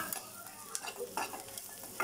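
Spiced food fried in a pan for egg fried rice makes a soft sizzle broken by scraping, clinking stirring strokes of a utensil against the pan at an uneven rhythm.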